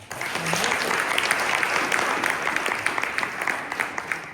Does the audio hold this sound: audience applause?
yes